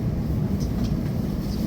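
A Shinkansen bullet train pulls into Osaka station with a steady, close, continuous low rumble and an even hum that holds throughout, with no distinct voices over it.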